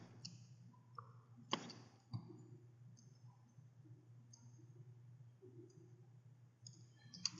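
A computer mouse clicks a few times, with sharp isolated clicks spaced out over quiet background hum, close and faint.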